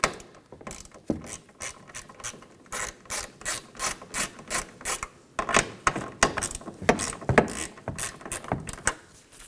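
A ratchet wrench backs out the 8mm bolts holding the taillight of a 2015-2023 Nissan Maxima, giving a steady, fast clicking that runs in close bursts with brief pauses.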